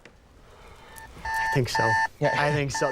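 Repeated electronic alarm beeps in a steady pattern, with someone talking over them through the second half.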